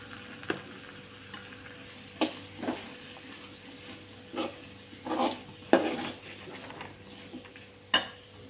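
A spoon stirs pickle with fenugreek and asafoetida powder in a pan, scraping and clinking against the metal in separate strokes every second or so over a faint background sizzle.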